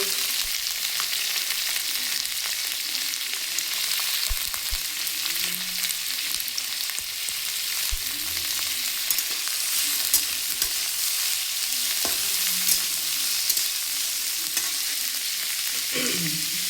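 Cabbage stirred and fried in a pan, a steady soft sizzle running throughout with occasional scraping stirs, fairly close and even in level, no voices.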